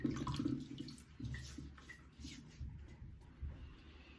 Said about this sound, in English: So bear with me while I get my face wet here quickly